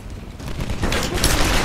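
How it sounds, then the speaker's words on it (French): Gunfire in the Tomb Raider video game cracks out as a rapid burst of several close, loud shots filling the short moment, with no talk over it. "Ok, tire à la tête à nouveau"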